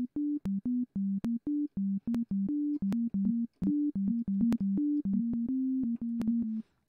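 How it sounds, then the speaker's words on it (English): Pure sine tones played from a sampler in Ableton Live, a quick sequence of short clean beeps at slightly varying pitches with brief gaps, loud and dry with nothing else. "Add that sine into a simpler"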